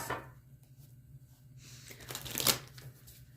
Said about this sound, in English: So let's get you some tarot cards.